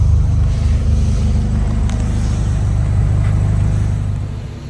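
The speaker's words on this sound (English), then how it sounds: "don't mind the noise of the car" Acura Integra engine running inside a garage, a continuous low rumbling hum that stays steady and close before tapering slightly at the end, with no talk.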